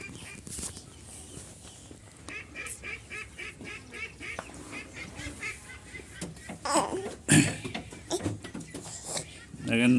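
Ducklings and chicks newly placed in a floating poultry coop make scattered peeping and honking calls while a person talks over them nearby, with some knocks and handling noise.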